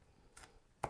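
A knife chops chili peppers in a home kitchen, two short, soft, separate strikes heard close by with quiet pauses between them.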